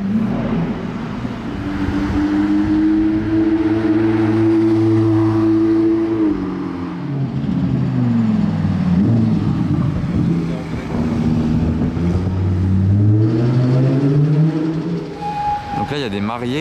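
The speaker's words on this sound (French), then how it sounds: "Bruyante cette SVJ." Loud, deep engine revving from a grey Lamborghini SVJ supercar in the streets of Monaco, with several sustained rising and falling throttle blips across the stretch, close by and dominant over background voices.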